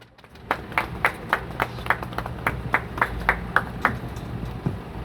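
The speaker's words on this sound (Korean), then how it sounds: "힘찬 박수 부탁드리겠습니다." Sparse clapping from a small group at an outdoor railway workers' union press conference, distinct separate claps in a loose rhythm over low background noise, no talk.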